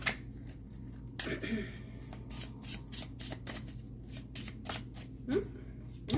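Tarot cards riffled and drawn by hand from a deck, a run of quick papery flicks and soft slaps close by, with brief gaps between bursts and no talk.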